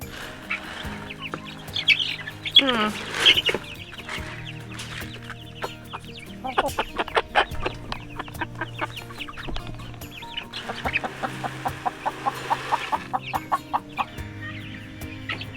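Baby chicks on a farm give repeated short clucks and peeps in uneven bursts, fairly close and without talk.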